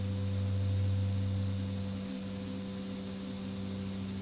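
A Carenado King Air turboprop in the X-Plane flight simulator, approaching Aspen, gives a steady droning engine hum with strong low tonal bands, continuous and fairly loud throughout with no other sounds.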